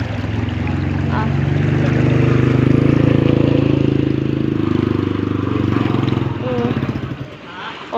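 A motorcycle engine labours through knee-deep flood water, a loud continuous drone that rises and then sputters and fades toward the end, with people talking over it.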